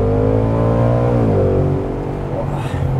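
A new Ford Mustang convertible V8 revs and pulls away, a loud, close, deep engine note rising in pitch, then easing off and settling into a steady rumble.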